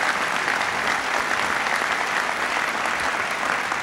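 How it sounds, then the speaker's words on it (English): Audience applause at a California Republican Party fundraiser dinner, dense steady clapping from a large crowd filling the room, continuous and even without pause, no voices on top. "I think we all owe a round of applause to David Murdoch and the others for what the"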